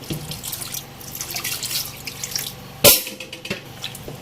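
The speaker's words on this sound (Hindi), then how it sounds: "और अब हम इसके अंदर शामिल करेंगे पानी।" Water splashes and pours steadily into a pot of cooking lentils, with one sudden louder clank partway through and light dripping.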